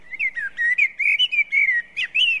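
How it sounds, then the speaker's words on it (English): A blackbird sings close by in a string of clear, fluting whistled phrases, each separated by short gaps, loud and alone with no talking. "a blackbird sang close by"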